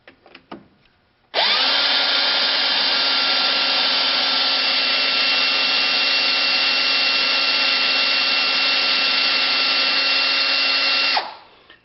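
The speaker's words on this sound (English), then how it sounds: "on the drill's slowest speed, I'm going to back these jaws out until they don't back out any further" A cordless drill runs steadily at its slowest speed, backing the jaws out of a three-jaw chuck on an Atlas lathe; one long continuous whir, close and loud, starting after a brief rustle and stopping abruptly.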